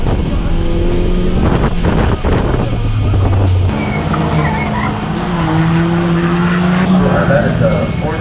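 Ford Fiesta race car engines revving and shifting close by on a go-kart track, tires squealing over a constant loud roar, with wind buffeting the microphone.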